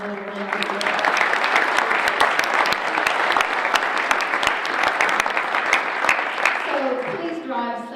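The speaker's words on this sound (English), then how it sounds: "Let's give our sponsors a little round of applause." A breakfast crowd at a chamber of commerce legislative event gives the sponsors a round of applause, dense steady clapping throughout, with a voice speaking near the end as the clapping fades.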